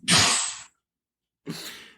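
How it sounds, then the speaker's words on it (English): Someone off camera sneezes loudly, one sharp burst followed after a short silence by a second, slightly softer one. "somebody sneezed off camera"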